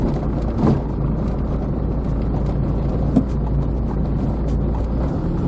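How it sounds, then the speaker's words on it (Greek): A cold-engined Opel Kadett rolls downhill along a narrow Athens street, its steady low engine drone and road rumble heard from inside the car, with buffeting wind noise and no talk. "Με την κρύα μηχανή του Cadet κατηφορίζουμε το στενό μας εδώ στην Αθήνα"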